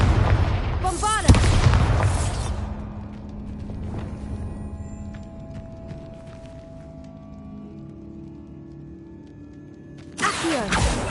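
Heavy boom of the Bombarda blasting spell in Hogwarts Legacy, a loud close burst with a rumbling tail that fades over several seconds, then a second blast erupts at the end.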